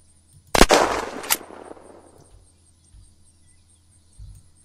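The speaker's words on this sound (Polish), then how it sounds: "goście nie wiedzą, skąd padają strzały" Gunfire in the video game Unturned during a multiplayer fight at a military base: one sharp burst of a couple of loud shots with a fading tail, then a few faint distant pops.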